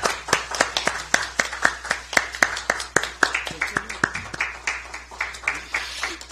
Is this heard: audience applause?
yes